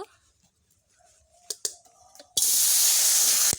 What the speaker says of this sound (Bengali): এবারে কেটে ধুয়ে রাখা শাকগুলো কড়াই দিয়ে দিব